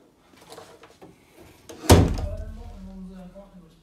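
A heavy split barn-style door in a damp, abandoned college building shuts with a loud wooden thunk that rings briefly in the empty room, with faint footsteps and shuffling before it.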